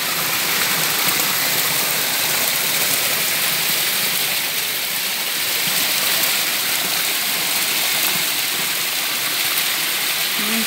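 A small waterfall of clean, cool water in the open rushes steadily and loudly, a dense even roar with no voices over it.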